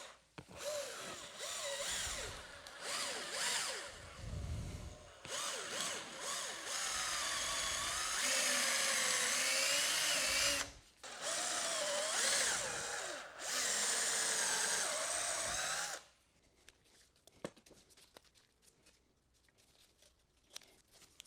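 A power drill bores holes into wood for mounting antlers on a rustic wooden reindeer, giving several loud, close whirring bursts with short pauses between, then stopping, followed by a few faint clicks and handling noises.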